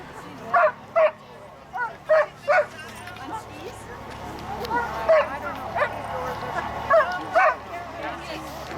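Sled dogs at a dog derby race in Ashton, Idaho, let out a string of close, loud barks and yips in bursts, with whimpering and crowd chatter in between. People talk throughout.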